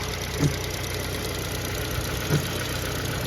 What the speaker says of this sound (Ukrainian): Двигун працює як годинник